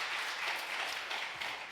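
An audience at a church meeting at Seodaemun Presbyterian Church applauds the pastor: a steady, dense wash of many hands clapping together at moderate loudness, with no gaps, for the whole stretch.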